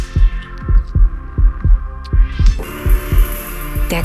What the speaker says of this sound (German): Dein lauter Herzschlag beim ersten Kuss.